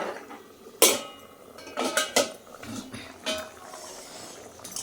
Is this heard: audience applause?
no